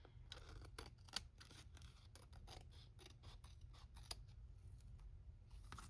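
Scissors snipping a small piece of paper while decorating a journal, a rapid series of close, crisp cutting clicks over a low steady background hum.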